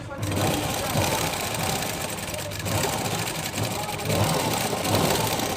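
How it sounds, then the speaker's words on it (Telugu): A sewing machine runs continuously and loudly up close, sewing a plain first seam at a blouse shoulder, with a dense mechanical whir and faint knocking and no pauses. "ఫస్ట్ అయితే సాదాగా కుట్టేసుకోండి, తర్వాత తిప్పి రెండో కుట్టేసుకోవాలి"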